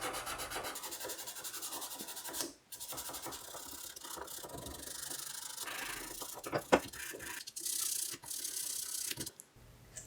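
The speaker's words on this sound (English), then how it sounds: "I finish it off with 400 grit sandpaper for a smooth," A small wooden cross is hand-sanded with 400 grit sandpaper, giving steady close rubbing strokes with brief pauses and a sharp tap midway.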